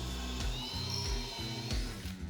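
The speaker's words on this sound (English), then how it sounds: "I was kind of hoping that this way will ensure that the hole I drill will go as straight as possible" A power drill bores a hole with an 11 mm bit, its motor whirring in repeated surging pulses as the bit bites in, close and moderately loud with no talk.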